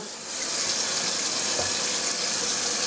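Hot water running from a kitchen tap into a sink, a steady close hissing splash that starts softly and quickly builds to a constant, even flow.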